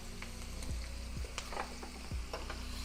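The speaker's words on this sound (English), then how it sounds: "And now I'm going to add in the garlic." Fresh pressed garlic sizzling in a pan with vegetables for egg rolls, a steady frying hiss with a few soft stirring knocks, close and moderately quiet.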